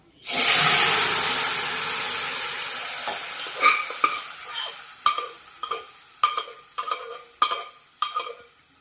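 Onions and prepared masala hit a hot pan with a loud initial sizzle that slowly fades, followed by a series of sharp stirring scrapes and clacks as the mixture is turned for puri masala.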